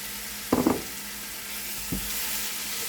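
Finely chopped green onions, three small ones, hit a hot pan for a vegetable paratha filling, with a short burst of crackling sizzle, then a second brief sizzle over a quiet, steady background hiss.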